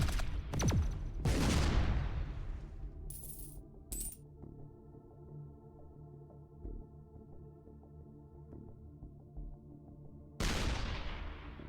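Booming shots from a weapon in a multiplayer video game, with a few loud, decaying blasts early and one more near the end, separated by a quieter stretch with clinking, ringing tones.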